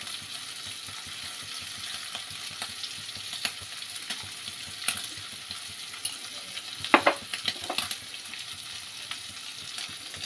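Spices for a Bengali prawn curry, including turmeric, salt, chili and cumin, sizzle and fry in a pan, a continuous crackling hiss with a few sharp stirring clinks partway through.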